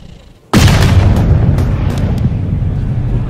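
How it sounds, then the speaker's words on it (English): A golf club strikes the ball off the tee in a PGA Tour video game at the Arnold Palmer Invitational, giving one loud, sudden cannon-like crack followed by sustained broadband rumble and crowd-like wash. "did you hear the sound of that coming off the club face?"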